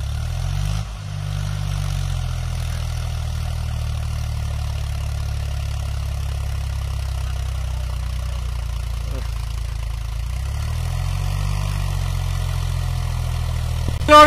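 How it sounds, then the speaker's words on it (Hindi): A Mahindra 265 tractor of about 29 HP drones steadily while pulling a 7-foot Shaktiman rotavator through soil, a loud continuous low engine hum under load that dips briefly near the start and near the end. "तो ट्रैक्टर बहुत ज्यादा लोड मान रहा है"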